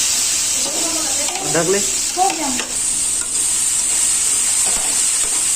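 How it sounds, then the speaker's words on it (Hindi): Radish greens (muli bhaji) sauté and sizzle in a pan while being stirred, a steady frying hiss with scraping stirs; someone speaks briefly over it. "अब इसमें डाल देंगे हम जितनी भाजी है हमारी सब पूरी डाल देंगे। जी हाँ, 5 मिनट तक इसे भून लें"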